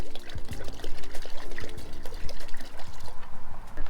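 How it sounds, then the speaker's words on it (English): Vinegar pours steadily into a bucket of water, a continuous splashing gurgle with small bumps and clinks, close and fairly loud, with no talking. "I'm going to pour a good amount of vinegar in here."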